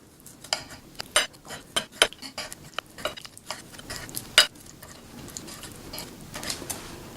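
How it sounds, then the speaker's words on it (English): A knife works through chicken on a cutting board, chopping it into half-inch pieces with a close, uneven series of sharp taps and knocks and no talking. "what we're going to do is cut it into pieces about this size"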